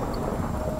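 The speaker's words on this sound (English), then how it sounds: "Oh, it's thundering." Thunder in a video game set around a large manor build, a low continuous rumble filling the short stretch at steady loudness, with a rain-like hiss over it and no talk.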